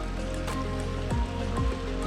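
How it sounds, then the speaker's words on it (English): A mountain creek rushes steadily down a wooded nature trail near a campground, producing a close, continuous wash of flowing water. "And the water just flows. Flows all the way down."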